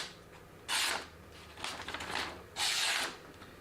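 Knife edge freshly honed on a 1000-grit whetstone shaving hair off a forearm, making two strong, close scraping swipes with fainter rasping strokes between them.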